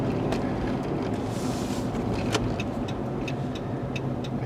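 A Dodge truck on a test drive after front brake work, heard from inside: a steady, unbroken rumble of engine and road noise with a faint wind hiss, constant in level throughout, with no one speaking.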